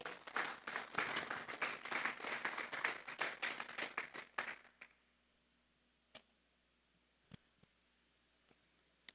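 A church congregation claps in loud, dense applause for about four and a half seconds. It then cuts off into near silence broken by a few faint isolated knocks.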